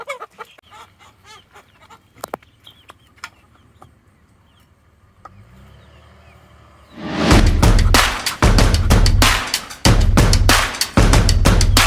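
Backyard chickens eating fodder cluck softly at first, then burst into loud, close, rapid clucking and squawking that continues in bursts.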